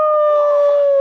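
A dog gives one sustained howl, loud and close, that holds a single drawn-out pitch for about a second, heard alone.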